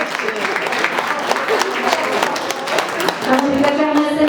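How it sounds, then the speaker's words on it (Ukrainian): Applause from a concert audience at a Bulgarian cultural autonomy event, crisp, busy clapping from many hands, with a sustained musical tone entering near the end. "Еще раз аплодисменты, пожалуйста."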